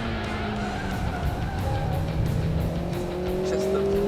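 A car brakes hard into a hairpin on a test track, tires squealing while the engine revs high and steady, loud and close, shifting pitch as it slows and turns.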